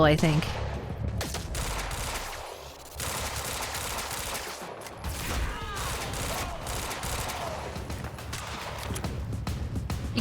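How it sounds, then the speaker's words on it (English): Pistol fire in Quantum Break comes as rapid bursts of sharp shots with loud impacts and game noise, mostly continuous, with someone briefly talking over it. "I'm gonna use the pistol"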